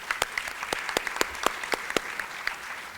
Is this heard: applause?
yes